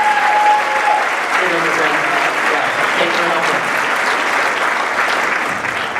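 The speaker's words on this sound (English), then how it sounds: "Let's give Jeff a big round of applause." A room of audience members applauds at a storytelling talk, dense sustained clapping at close range, with a brief spoken thank-you over the noise.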